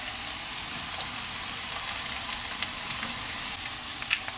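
Mushrooms, a couple of types, frying in a pan with softened ingredients for Chinese cooking, giving a steady, even sizzle throughout with faint crackles and no talking.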